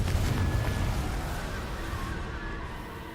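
A Confringo blasting spell goes off in a Harry Potter video game: a heavy, rumbling explosion that booms at once and slowly fades over a few seconds.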